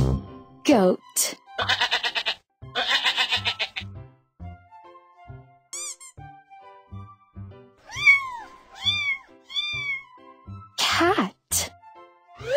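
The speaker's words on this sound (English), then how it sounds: "Cat." A cat meows several times, a run of short rising-and-falling mews near the end, mixed in among spoken words and other brief animal-like calls.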